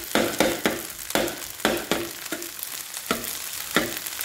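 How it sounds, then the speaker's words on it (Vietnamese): Rice is stir-fried in a hot pan with salted fish and pork cracklings. A loud, close sizzle is broken by about a dozen rhythmic scraping strokes of a spatula, with no talk. "xào chung vô"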